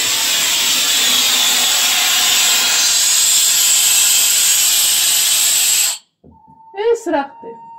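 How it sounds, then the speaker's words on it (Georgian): Water hisses loudly and steadily from a kitchen tap for about six seconds, then cuts off abruptly into silence before a voice speaks briefly. "ეს არის წყლის ხმა"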